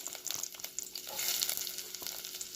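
Onions, ginger, green chillies and garlic fry in a pan with a soft, steady sizzle and crackle, faint and close, with light stirring taps and no talking.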